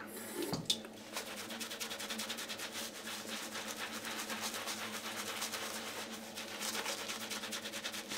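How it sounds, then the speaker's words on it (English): Water running from a tap and splashing onto a shaving soap puck in a bowl, a steady close trickle and spatter with a brief louder splash near the start. "Add a little bit of water."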